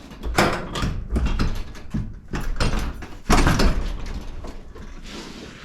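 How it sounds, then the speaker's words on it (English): Paint booth door in a home garage opening, heard as several bursts of rattling, scraping mechanical noise at close range with short pauses between, ending in a quieter stretch. "let's open the old paint booth door"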